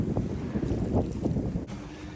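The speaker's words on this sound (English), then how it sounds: "Could be some good wind." Wind blowing while sailing a sailboat out past a breakwater with whitecaps on the water, a steady close rush of wind buffeting the microphone with faint water sounds, no talking.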